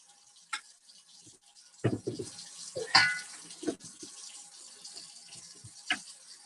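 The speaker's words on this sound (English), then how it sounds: "we're also going to go ahead and turn on some water because we're going to need some warm water to help activate the yeast" Warm water running from a kitchen tap while challah dough is prepared, a soft trickle with splashes and clinks of utensils and bowls, no talking.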